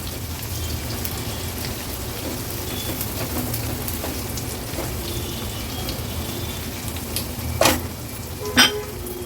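Steady, close sizzle of onions frying in a covered kadhai over a low gas flame, continuous throughout, with a couple of sharp clinks near the end.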